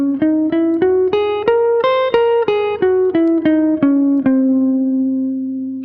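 An altered scale in a sequence of plucked, synth-like notes steps up and then back down, about a dozen evenly spaced tones, with the last note left to ring.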